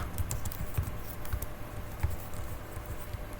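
Soft, quick keystrokes patter on a computer keyboard as a project name is typed into Visual Studio 2022, a close, irregular run of light clicks with a few firmer taps, no speech.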